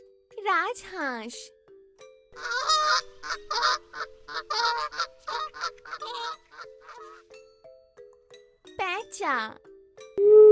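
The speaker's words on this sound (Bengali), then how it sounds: "রাজহাঁস" A goose honks in a long, loud series of brassy calls at close range, with short spoken voices at the beginning and near the end.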